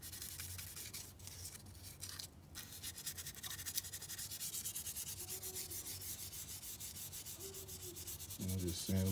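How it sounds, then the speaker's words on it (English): Steady rubbing of 400 grit sandpaper against a wheel during a DIY paint job, a continuous close, quiet scratchy rasp that runs throughout, ending in a few louder knocks. "Just get me a little piece of sandpaper. Sand them down real good."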